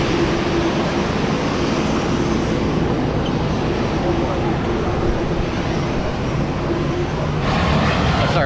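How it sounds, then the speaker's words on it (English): Steady, loud engine roar from a small propeller plane at an airport fills the whole stretch, broad and continuous with a slight swell near the end, while faint voices murmur underneath. "A little propeller plane."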